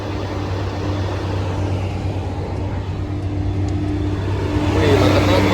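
A heavy, fully loaded truck with A-series plates rolls past in slow traffic near Baluran forest. Its low engine rumble runs steadily and swells louder at the end.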